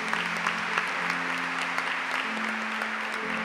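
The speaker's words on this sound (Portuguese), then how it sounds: "Aplaudamos com alegria a palavra de Deus." A church congregation at Mass claps steadily for a few seconds, a dense, even wash of applause with no voices.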